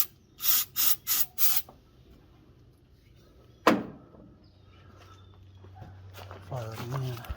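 Starting fluid is sprayed into the carburetor of a Pontiac Ventura that has not started in three years. A single sharp hissing burst stands out midway, with someone talking before it and quiet shuffling afterward.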